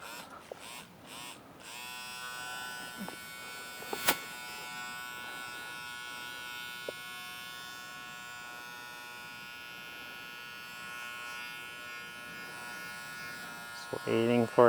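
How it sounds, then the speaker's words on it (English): Electric clippers buzz steadily for a long stretch while rubbed against an animal's ear during desensitizing before clipping, a close, continuous hum with a few brief knocks and some speech. "rub the clipper into the ear"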